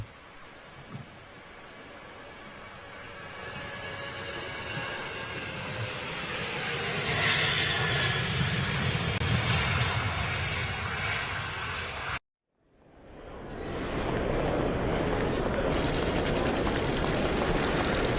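A jet airliner passes at an airport, its engine roar building steadily to a loud peak, then cutting off abruptly before a broad, noisy rush returns; no talking is heard.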